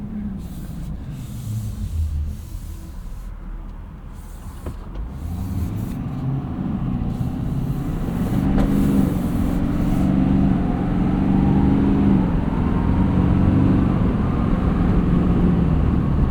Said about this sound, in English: it's shocking how quickly this thing accelerates